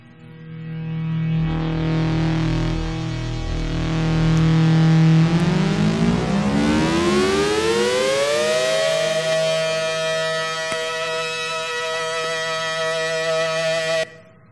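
A Moog synthesizer with a wooden frame plays a sound-effect demo, a loud sustained buzzy tone that holds steady, then sweeps upward in a long rising glide like a siren before settling on a high note and cutting off abruptly.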